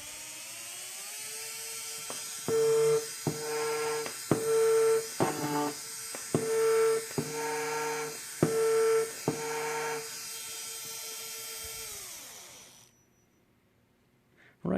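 A matched pair of brushed electric motors spins at nearly equal speed, giving a steady layered whine with a rhythmic pulsing beat through the middle. The whine then winds down and stops.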